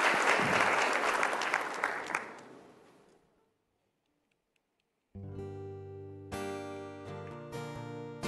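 Audience applause at a televised Indonesian talk show, a loud dense burst of clapping that swells then fades to silence within about three seconds, followed by music starting.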